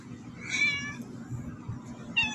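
A cat meows close by, two drawn-out harmonic calls with a quiet pause between them over a low background rumble.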